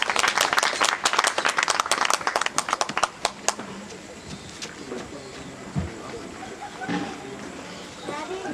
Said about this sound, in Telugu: చప్పట్లు కొడదాం గట్టిగా, చప్పట్లు కొడతాం.